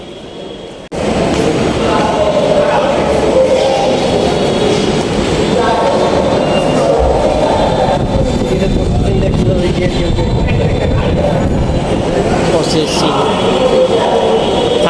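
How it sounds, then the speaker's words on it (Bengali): Loud, continuous rumble of a metro train running at Karwan Bazar metro station in Dhaka, with a steady rolling roar and faint wheel squeal, voices mixed underneath. "এখন আছি কামরান বাজার মেট্রো রেলওয়ে স্টেশন"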